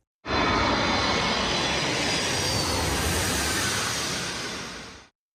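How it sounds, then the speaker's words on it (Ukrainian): A huge Antonov An-225 Mriya cargo aircraft passes overhead in the sky over Poland, its engines a loud, continuous broadband roar that holds steady for about five seconds before gradually fading. "Так у небі над Польщею з'являється найбільший літак у світі Мрія."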